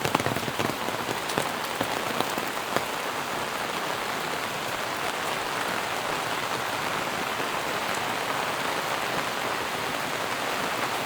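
Steady rain at a forest resort in Maredumilli, a constant dense hiss of drops hitting surfaces, close and even throughout with no voices.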